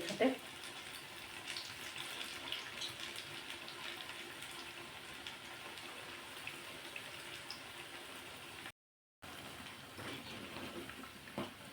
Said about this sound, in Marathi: टाकून घ्यायचे आहेत आणि मस्त तळून घ्यायचे